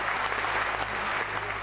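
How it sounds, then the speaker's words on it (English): Brief burst of applause on a morning radio news show, an even wash of clapping with a low steady hum underneath. "Rousing applause."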